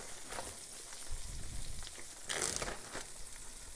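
Chicken thighs, large pieces, frying in a crowded skillet, a steady soft sizzle with a brief louder crackling burst partway through, no voices.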